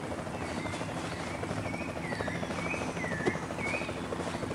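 A helicopter's rotor in the iOS game Runventure chops in a fast, steady flutter throughout, with warbling chirps layered above and a brief knock partway through.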